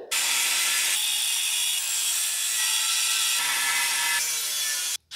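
A part being trimmed by hand to fit a Jeep gives a harsh, continuous rasping like sawing, with the strokes changing a few times, close up and alone until a short break near the end.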